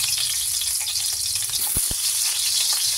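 Garlic and onion sautéing in a hot pan give a steady, close sizzle, broken by a couple of brief knocks from utensils partway through.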